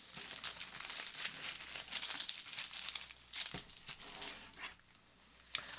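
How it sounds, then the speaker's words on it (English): Paper sewing pattern being folded along a line for a bust adjustment, giving close, soft crinkling and rustling that comes in irregular bursts, with no talking. "I'll fold this on this line"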